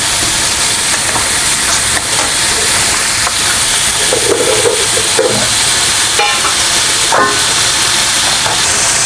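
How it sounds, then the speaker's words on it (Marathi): Onion sizzles in a very hot kadhai while cooking a pea curry, a loud continuous hiss and crackle with scattered spatters and occasional utensil clinks close by. "कढई एकदम गरम झाल्यामुळे मी कांदा टाकून घेतला"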